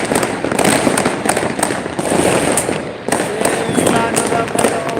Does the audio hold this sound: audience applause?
no